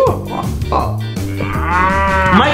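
Toy cow letting out a loud, drawn-out electronic moo that rises and wavers, preceded by a few shorter lowing calls, sounding close and alone without talk.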